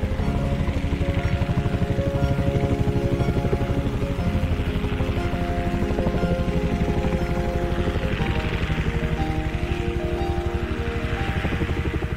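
A rescue helicopter flies overhead in a steady, loud, continuous drone, its rotor chop and engine whine holding for the whole stretch with no voices.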